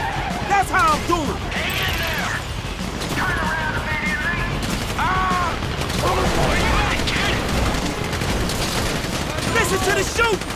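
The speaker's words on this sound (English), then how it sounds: "You hear that gunfire?" Gunfire in the video game GTA V, scattered shots and crashing bursts amid a chaotic firefight, with voices shouting over the shooting throughout.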